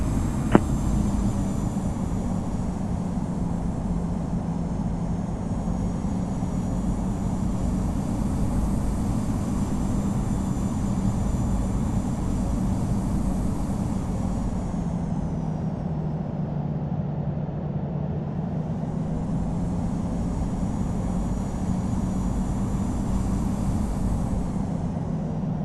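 A Boeing Business Jet's engines humming steadily while lining up on the runway, a continuous loud whine and rumble heard from inside, dipping briefly midway before rising again.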